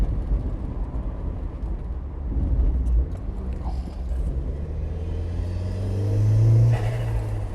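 A turbocharged Mk1 Mazda MX-5 accelerates with a loud, steady engine rumble heard close up, and its pitch climbs and swells toward the end as the revs rise.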